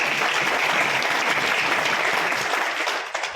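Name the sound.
audience applause at a meeting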